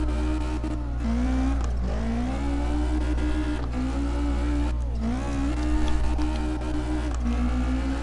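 Car engine in a drift run in CarX Drift Racing Online, using left-foot braking, handbrake and transitions: a steady, loud, whining engine drone rising and falling in pitch as the car swings sideways, with no voices over it.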